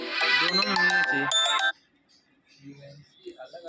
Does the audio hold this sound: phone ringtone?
yes